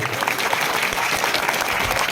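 An audience claps loudly and continuously at an outdoor dance competition during a public Shivjayanti festival, a dense, even wash of applause from a sizeable crowd with faint voices mixed in.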